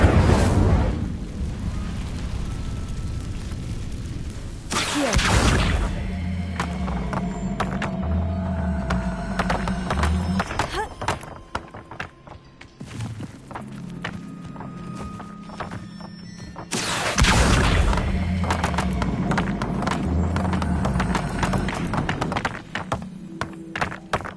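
Incendio fire spells cast again and again in Hogwarts Legacy on PS5, each a loud, roaring burst of flame with a booming onset that fades into a rumbling crackle.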